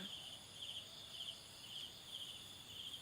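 Steady insect chirring, likely crickets, in the dark early morning before dawn, a continuous high buzz at low, even loudness with no voices.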